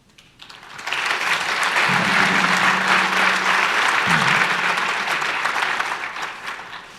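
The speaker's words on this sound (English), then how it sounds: "When he finishes, he gets a clap." An audience claps after a talk at the AWS re:Invent 2018 conference, steady applause rising quickly and holding throughout, with a brief voice under it.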